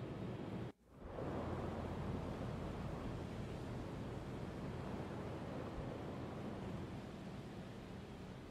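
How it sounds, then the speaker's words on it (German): Heavy ocean waves and spray roar loudly and constantly around a submarine at sea in the video game UBOAT, a dense, wind-like wash broken by one brief dip near the start. "Wow, die Wellen jetzt hier, ne? Die Gischt."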